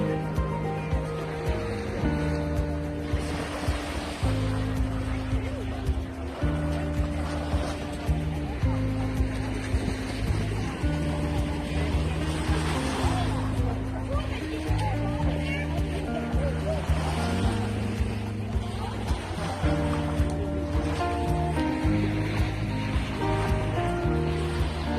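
Ocean surf rolling onto the beach at Ocho Rios, Jamaica, a steady wash of waves under continuous music and voices that talk over it for most of the time.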